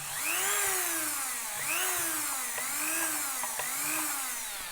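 A small handheld rotary power tool spins its bit, and the motor pitch rises and falls in four smooth waves as pressure on the trigger changes speed. The whine is steady and close, and no one speaks.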